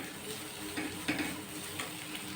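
Ginger garlic paste and turmeric are stirred into frying onions, giving a soft, steady sizzle with a few light spoon scrapes against the pan.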